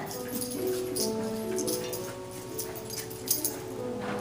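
A collie whimpers softly and steadily while searching for a scent, the thin whining tones continuing under faint outdoor background noise with a few brief yips near the end.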